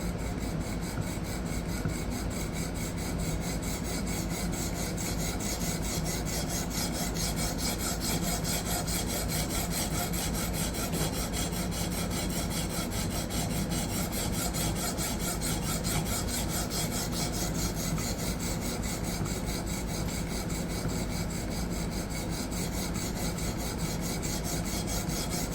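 Blade steel rasping steadily against a stone on a Hapstone fixed angle sharpener, near the plunge grind, a continuous close-up scraping texture that runs unbroken without pauses and without talk.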